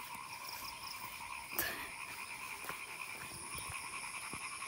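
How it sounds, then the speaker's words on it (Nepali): Frogs croak in a dense, unbroken chorus from fields of tall maize near a seasonal bridge in the countryside. The sound is steady and moderately loud, with one brief louder burst partway through. "एकदम भ्यागुता गराउँदैछ खेततिर"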